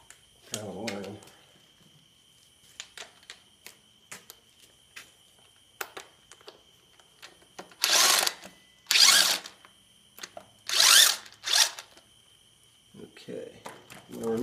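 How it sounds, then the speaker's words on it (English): A power tool working on the bolts of an IH 240 tractor, with short loud bursts of whirring and rattling near the end and scattered clicks and clanks between them, close by, with someone speaking briefly at the start. "I'm going to remove all the bolts"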